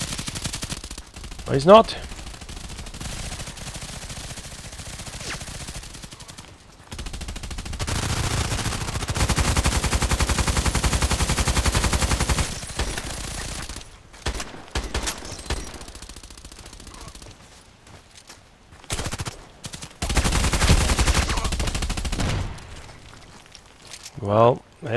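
Glock pistol gunfire in a video game, heard as bursts of shots mixed with rapid automatic fire and other game noise, loud and repeated across the stretch, with someone briefly talking.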